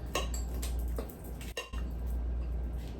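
A spoon scrapes and clinks in a bowl as tuna is stirred into a Southern-style macaroni salad, soft repeated taps and squishy mixing sounds close by, fairly quiet with no talk.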